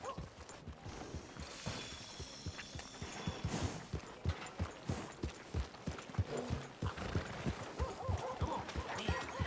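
Steady clip-clop of horse hooves at a walking pace in the Red Dead Redemption 2 video game, close and continuous, with faint mechanical creaks and a little background noise.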